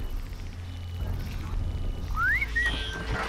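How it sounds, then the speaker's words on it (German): A short rising whistle, then a second brief whistle, in the video game Horizon Zero Dawn, sounding clearly over a steady low game ambience. "Also das mit dem Pfeifen klappt tadellos."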